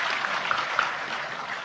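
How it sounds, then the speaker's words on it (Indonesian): Audience applause at a talk show discussion, a steady broad wash of clapping held at moderate level for under two seconds with no voices over it. "Oh, tepuk tangan."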